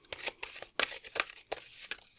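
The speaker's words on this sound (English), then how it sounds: "I'll shuffle this off screen because there's not a lot of room on there right now." Tarot cards being shuffled close by, a quick run of soft papery riffles and slaps in uneven bursts, with no voices.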